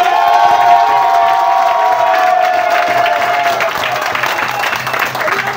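A large crowd at a nighttime referendum campaign rally in Gabon cheers and claps, with shouts and a loud sustained voice rising over the ongoing applause.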